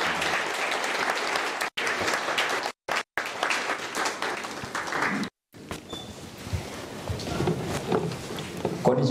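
Audience applause welcoming a guest at a campaign support office opening in Japan, dense sustained clapping with a few abrupt gaps, then thinner clapping and room noise.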